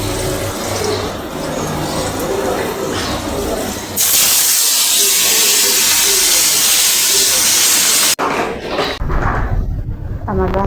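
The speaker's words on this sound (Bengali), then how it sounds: "এখন মাছটা ভাজে নেব" Koi fish going into a hot kadai, where the oil erupts into a loud, dense hiss and sizzle for several seconds, then cuts off sharply, with quieter kitchen clatter before and after.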